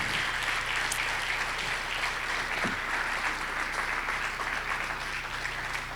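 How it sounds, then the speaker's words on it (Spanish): A church congregation applauds steadily, dense clapping filling the whole stretch at an even level with no pause. "Dele un aplauso al Señor."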